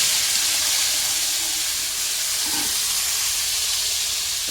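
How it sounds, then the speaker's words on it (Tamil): Onion, capsicum, tomato and green chilli sautéing together in a pan hiss loudly and steadily up close, with a faint clink partway through. "ஏன்னா எல்லாமே ஒன்றா தான் வதங்குது ஃப்ரெண்ட்ஸ்"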